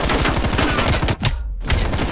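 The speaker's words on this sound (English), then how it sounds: "Flashbang!" Flashbang grenade bursting during Call of Duty Black Ops Cold War gameplay, a loud dense crackle of rapid bangs filling the clip, followed by a brief high-pitched ringing gap before the noise returns.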